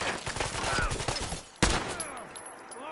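A rapid volley of gunfire in the video game Fallout 4, several quick shots followed by one louder blast and a fading echo, with a faint voice underneath.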